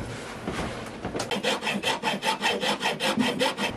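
A screw being driven into a storage unit during home renovation: rhythmic rasping, scraping strokes repeating steadily at close range, starting after a quieter opening second and continuing alone.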